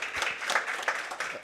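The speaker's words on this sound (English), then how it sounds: "A round of applause for Jason." An audience applauds a speaker at an internet academy event, steady dense clapping that fills the short moment without any talk.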